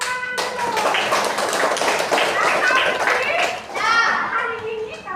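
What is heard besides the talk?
children clapping hands in class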